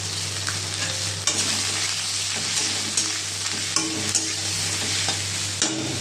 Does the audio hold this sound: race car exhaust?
no